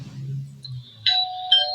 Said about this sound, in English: If you hear this ding dong means that we are beginning a exercise